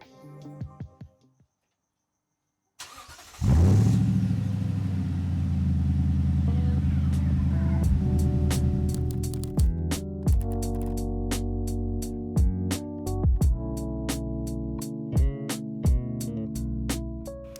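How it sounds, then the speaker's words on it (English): A Toyota Tundra truck engine starts and idles with a deep exhaust rumble, followed by several sharp revs rising and falling. "take a look at what the exhaust sounds like"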